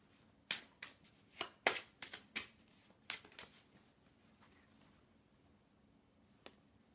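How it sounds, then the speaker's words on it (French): A card drawn from a deck, with a quick run of crisp snapping and flicking clicks as the cards are handled, then quiet and one last faint tap; close and soft, no talking. "Je vais juste tirer une carte"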